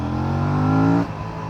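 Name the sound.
Aprilia RS 457 motorcycle accelerating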